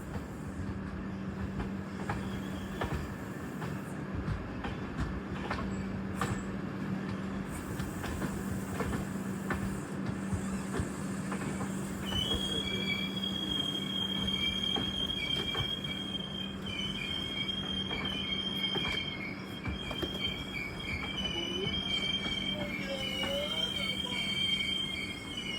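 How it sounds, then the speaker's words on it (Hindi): Devagiri Express, Mumbai to Secunderabad, rolling into Bolaram railway station under a steady low rumble, with faint wheel clicks and a thin squeal of wheels rising in the latter half. "3:05 on the clock and we are entering at Bolaram railway station"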